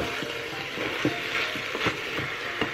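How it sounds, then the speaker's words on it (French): Meat browning with smoked pork belly in a Cookeo multicooker pot, a soft steady sizzle broken by scattered scraping and stirring clicks from a utensil, close by and with no one talking. "donc ma viande est bien revenue avec la poitrine"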